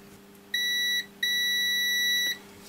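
Two clear multimeter continuity-test beeps, one short and one longer, sound up close over a faint background hum while checking a Pioneer CJD-2000 link socket connector.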